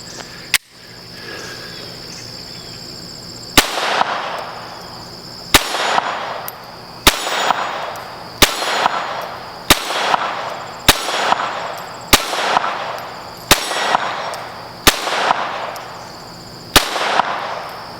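A Glock 44 pistol fires a slow, even series of about ten sharp shots, each followed by a ringing clang from a spring-mounted steel target, with insect chirping steady in the background outdoors.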